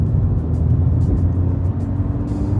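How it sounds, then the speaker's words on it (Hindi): Kia Sonet in sport mode accelerates on a city road, heard from inside as a loud, steady engine drone and road rumble with a few faint higher whines. "ये स्पोर्ट मोड है और देखते हैं अभी कैसी पिकअप पकड़ती है गाड़ी"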